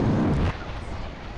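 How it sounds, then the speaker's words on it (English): A mass bomb detonates in the space combat game Space Pirates and Zombies, a loud, deep low-end boom lasting about half a second, then a quieter rumbling tail. "I think that was a mass bomb designed to take out shields, because it did nothing against my hull"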